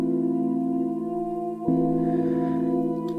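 A sustained synthesized sine tone rings through Spectronaut resonators with layered resonant overtones and a reverberant wash. A brief click partway through shifts the texture slightly.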